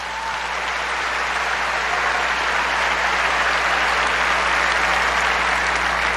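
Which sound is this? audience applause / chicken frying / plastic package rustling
audience applause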